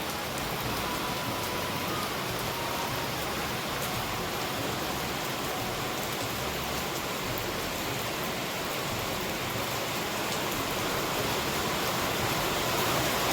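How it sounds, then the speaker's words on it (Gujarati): Steady light drizzle falls continuously, an even, dense hiss of fine raindrops on surfaces with no voices and no change in intensity throughout. "વરસાદ આવે છે અહીંયા ખબર પડી જાય. જો ઝરમર ઝરમર ઝરમર ચાલુ 1 કલાકથી થયો છે."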